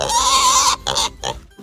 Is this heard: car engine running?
no